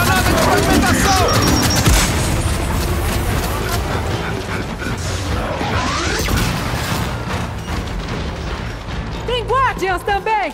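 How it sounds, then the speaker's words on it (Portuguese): In Gears 5's Hivebusters mode on Insane difficulty on Xbox One, a frag grenade blows up amid steady gunfire. Loud, crashing blasts and rattling shots run throughout, with voices calling out over the combat. "Lançando fragmentação!"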